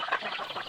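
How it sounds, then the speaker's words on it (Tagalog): Chickens clucking close by in a short burst of soft, rapid clucks during morning feeding on a small backyard farm. "Nagpatukan na muna tayo ng ating mahalagang manok"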